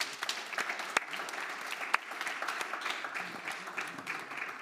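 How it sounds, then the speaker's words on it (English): An audience at a panel event on Europe–India free trade breaks into sustained applause for the panelists, dense overlapping claps that hold steady throughout with a few louder individual hand claps standing out. "A big round of applause for them"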